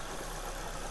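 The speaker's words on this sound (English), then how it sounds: "let's go ahead and start the engine" A 2010 Suzuki Splash with a 1.2L engine runs at a steady, close-up idle just after starting: an even, smooth mechanical hum with a faint tappety texture.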